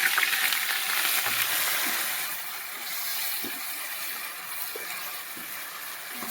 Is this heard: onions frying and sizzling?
yes